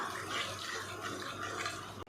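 Water pouring into a ridge gourd gravy masala in a cooking pan makes a steady, close splashing gush lasting about two seconds before it stops abruptly.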